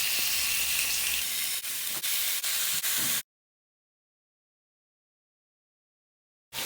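A T-bone steak hits a hot, oiled frying pan with a loud, close, broad hiss that holds for about three seconds and then stops abruptly into silence, with no talking.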